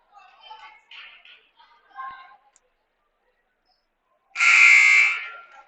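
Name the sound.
buzzer sounding at a college baseball game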